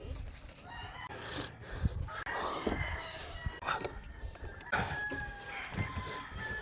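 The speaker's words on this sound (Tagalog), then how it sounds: "dun sa kabila ay maraming manok" Chickens cluck and a rooster crows nearby at a campsite on Mt. Parawagan, several birds calling over a noisy outdoor background.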